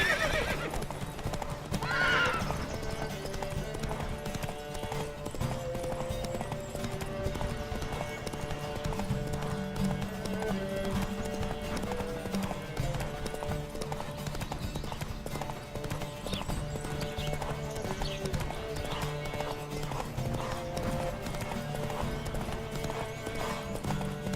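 Rapid, steady hoofbeats of galloping horses in the video game The Witcher 3: Wild Hunt drum continuously, with a horse whinnying near the start, over a bed of game music and ambient noise.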